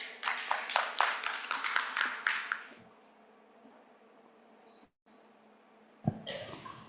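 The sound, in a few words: audience applause for the speaker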